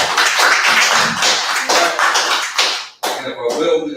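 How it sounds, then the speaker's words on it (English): Audience at a town hall meeting clapping: a few seconds of dense, fairly close applause with audible individual claps, then a voice speaks. "Let's clap for that."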